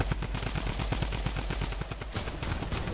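Rapid, dense automatic gunfire from a drum gun in the video game Fortnite, continuous bursts of shots running throughout, loud and close.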